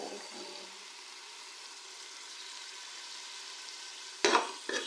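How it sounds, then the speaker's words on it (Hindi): Ginger garlic paste fries in a pan for a cholay masala with a faint, steady hiss. Tomato paste then goes in, bringing a sudden louder sizzle and sputter near the end. "अब मैं इसमें ऐड कर दूँगी टमाटरों का पेस्ट।"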